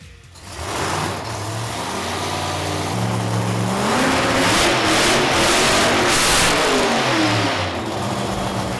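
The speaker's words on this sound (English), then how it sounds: "let's fire this race car up." A race car engine from a Monaro project car starts up, then idles and revs hard in rising, falling bursts, loud and close, with no voices.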